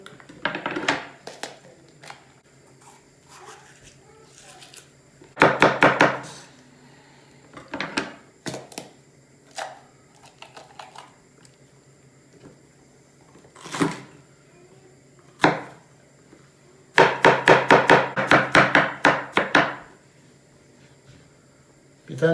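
Knife chopping garlic cloves and onion on a board, heard as bursts of quick, sharp taps in fast runs with short pauses between them, close and crisp, with a person talking in between.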